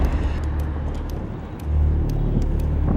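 A street cleaning vehicle used by Chinese sanitation workers drives along the road, giving a steady low engine rumble and roadway noise that swells louder partway through, with no talk.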